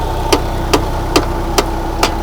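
A tractor engine running in a farm field, a steady low rumbling idle punctuated by five evenly spaced sharp knocks or clunks about every half second.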